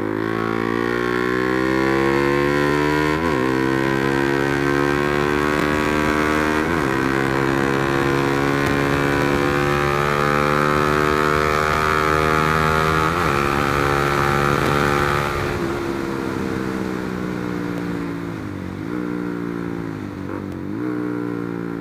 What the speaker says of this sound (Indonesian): Kayaknya suaranya memang ya cempreng banget gitu knalpotnya.